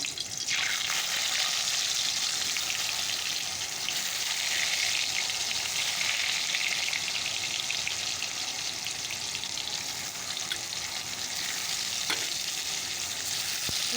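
Steady, dense sizzling of cut potatoes frying in hot oil, continuous and close throughout with no talking.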